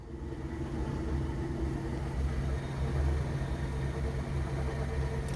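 A car engine idles steadily in a workshop during diagnostics with the MAP sensor connector unplugged, a low continuous rumble at moderate level with no speech.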